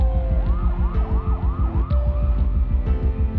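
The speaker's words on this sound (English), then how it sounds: "Grace called an ambulance" Loud ambulance siren wailing close by, rapid repeating up-and-down sweeps over a rumbling vehicle engine.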